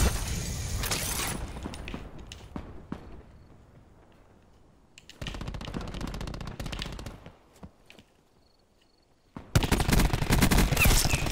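Automatic gunfire in a Call of Duty Black Ops 4 team deathmatch, loud sustained bursts that open the clip, fade to sparse shots, return mid-way and end in a dense final volley.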